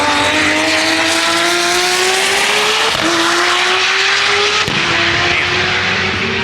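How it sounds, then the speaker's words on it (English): A Toyota race car speeds down a drag strip at TX2K, its loud engine note holding a steady rising pitch with a couple of gear-change shifts, close and continuous with no talk over it. "The Toyota moving hard down the middle of the racetrack."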